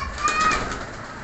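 Young breeder pigeons, a pair-bred clutch kept for mating, giving a brief soft cooing and bird noise at close range, with a faint thin call over light background rustle and no talk.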